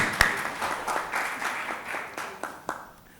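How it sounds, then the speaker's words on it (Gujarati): Faint applause from an audience at a panel discussion on regional film, a diffuse patter of clapping with a few sharper claps standing out, fairly distant and low in level. "એટલે તમારા માટે પણ એકવાર તાળીઓ થઈ જાય."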